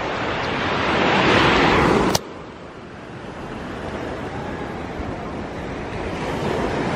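Waves surge and wash ashore at Crystal Bay Beach on Nusa Penida. A full, roaring surf builds over the first two seconds, drops abruptly, then settles into a steadier, softer wash with a light wind rumble and no voices.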